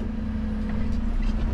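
A garbage truck collecting glass recycling rumbles up close with a steady low engine hum, and a faint hiss and clatter rise near the end as it brakes sharply.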